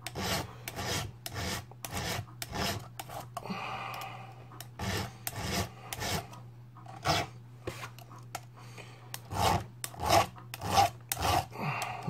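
Rakers on an older chainsaw chain are filed by hand, giving a series of rhythmic rasping strokes in close, separate bursts with short pauses between them and no talking.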